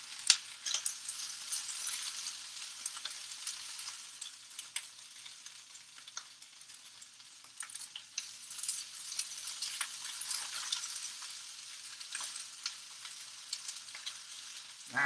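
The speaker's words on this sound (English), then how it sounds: "I'm just going to let them brown in that saute pan" Green beans brown in a saute pan with a steady, crackling sizzle, bursts of spitting rising and falling over a continuous frying hiss, close and without talk.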